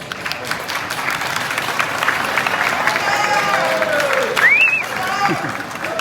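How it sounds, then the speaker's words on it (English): An audience claps at a Lunar New Year community event in a Queens cultural center, with a steady wash of applause and crowd noise running under nearby voices. "Let's give Megan a round of applause."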